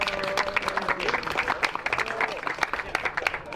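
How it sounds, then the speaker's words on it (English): An audience applauds with dense, sustained clapping at a live competition event, sounding moderately loud and steady, with a few voices mixed in under the clapping. "round of applause for Group G"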